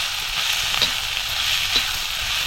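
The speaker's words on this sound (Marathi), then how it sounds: "आता आपल्याला ह्याच्यात भाजलेली गवारी टाकायची आहे।" Roasted cluster beans stirred and frying in a pan with onion and tomato over a wood-fired stove, giving a steady close sizzle with light scraping stirs throughout.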